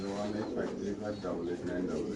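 Racer pigeons coo steadily at a pigeon farm, a dense low warbling murmur from many birds under a voice.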